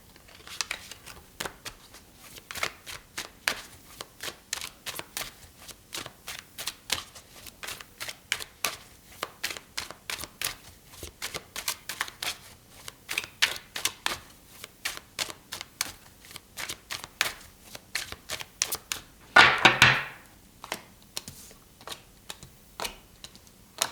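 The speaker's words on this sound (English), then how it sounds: "I'm going to clarify the cards and pull some advice." Tarot cards shuffled by hand, a long run of quick crisp riffling snaps close up, with a louder burst of cards being pulled from the deck near the end and no talking.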